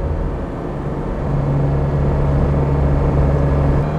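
The engine of a 1954 Mercedes 300 SL Gullwing runs in a loud, steady low drone, growing slightly fuller partway through as the car drives on.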